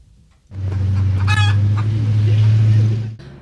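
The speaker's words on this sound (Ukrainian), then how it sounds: "Це так квокчуть кури не в сільському сараї" Close hens clucking steadily in a city apartment-block courtyard over a low droning hum, with a brief higher squawk partway through.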